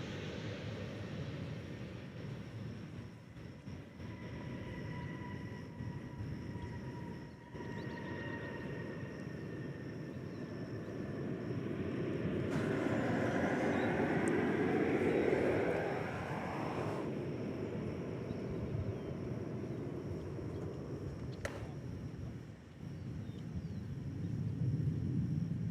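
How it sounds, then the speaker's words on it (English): An Airbus A319 airliner arriving at DFW Airport from San Antonio, its broad engine roar steady and distant, swelling louder toward the middle before easing off, with a steady background hum throughout. "This flight coming in from San Antonio, Texas. It's an Airbus A319"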